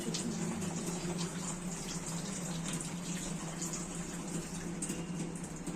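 Water streams continuously as a morning offering to the sun, poured from a window, a steady splashing gush without pauses and moderately close.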